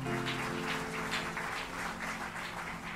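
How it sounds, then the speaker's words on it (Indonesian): A crowd claps steadily in a dense wash of applause, with a sustained musical hum underneath, moderately distant. "Boleh berikan tepuk tangan buat Tuhan."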